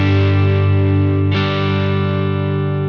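A sustained, distorted electric guitar chord rings out through a Marshall JVM205H tube amp with reverb, restruck once midway and then left to decay evenly without any voice.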